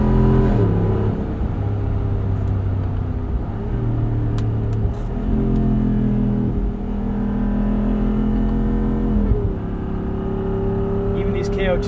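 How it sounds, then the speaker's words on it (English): A Jeep Wrangler 392's V8 exhaust rumbles loudly and deeply while driving on wet roads, with repeated rises and dips in revs as it accelerates and shifts, and a person talking over it. "This exhaust hasn't gotten old."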